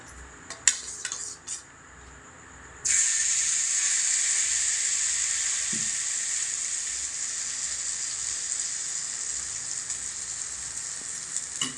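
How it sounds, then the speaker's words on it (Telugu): Oil poured into a hot pan for an egg masala omelette, a few clinks of utensils followed by a sudden, steady, bright sizzling hiss that continues close and loud. "ఇలాగా పెంక వేడెక్కిన తర్వాత మనం ఆయిల్ పోసుకొని కాసేపు ఉంచిన తర్వాత"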